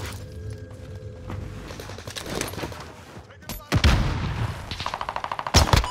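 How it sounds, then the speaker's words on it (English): Gunfire in the Warzone Caldera battle royale game, with rapid automatic bursts and heavy shots that grow louder and denser toward the end, mixed with game sounds and brief voices. "I got two kids shooting at me."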